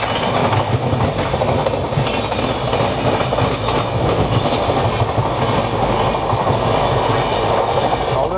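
18011 Chakradharpur Express running between Uluberia and Bagnan, a loud, steady rumble of wheels on rails with a rhythmic clickety-clack throughout, close and continuous with no talking.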